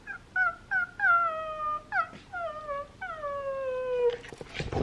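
A dog whines and cries in a run of high, drawn-out falling whimpers, several in a row with short breaks, wanting to be let outside; close and fairly clear, ending in a brief rustle.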